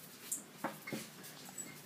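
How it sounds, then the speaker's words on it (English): A puppy whimpers and yips in a few faint, brief bursts indoors at a home, with soft breathing and quiet room noise between them. "Here comes the puppy."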